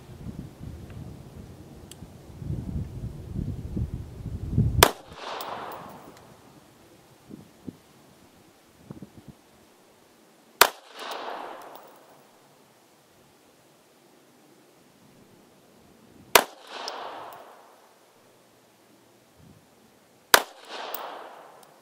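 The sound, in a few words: gunshots from a Polish P-83 Wanad pistol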